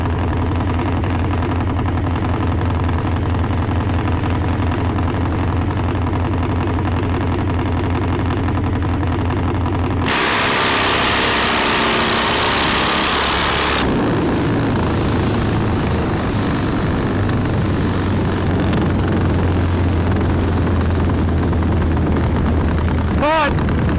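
A nitro-burning top fuel Harley drag bike engine runs loudly, shifting from a rough, throbbing idle into a sudden harsh, full-throttle roar for several seconds, then dropping back to a rumbling idle.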